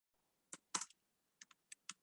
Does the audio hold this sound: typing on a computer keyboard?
yes